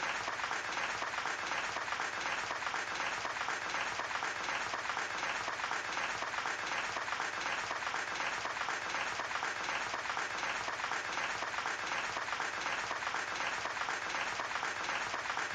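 Long unbroken stretch of crowd applause, a steady dense wash of clapping at even, moderate volume with no pauses.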